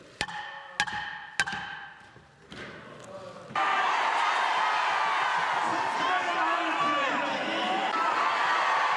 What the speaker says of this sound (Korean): 보수단체는 환호했다